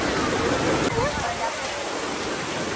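Dense steady hiss of heavy rain with gusting wind, a continuous broadband wash close to the microphone.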